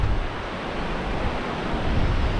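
Heavy surf and strong wind on Siesta Key beach during Hurricane Milton, a steady, loud roar of crashing waves and gusts buffeting the microphone, with no talk.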